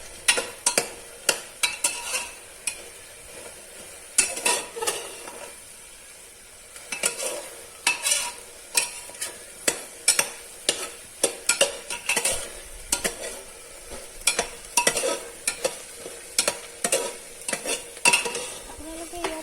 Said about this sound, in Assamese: এইখিনি ৰঙচুৱা টাইপ নোহোৱালৈকে এনেকৈ লাৰি থাকিব লাগিব অলপ টাইম